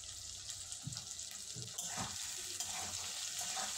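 A spoon stirs amla pickle mixed with black salt and plain salt in a pan, soft wet scrapes and light sizzling coming in small bursts, fairly quiet and close, with no talking.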